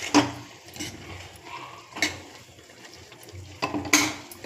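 A spoon stirs drumstick tomato curry in a pan after coriander is added, with wet scraping and a few metallic clinks against the pot.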